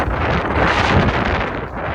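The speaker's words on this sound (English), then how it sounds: "It's windy here." Loud, steady wind buffeting the microphone on a hiking trail, a broadband rumbling roar that gusts slightly throughout with no other sounds.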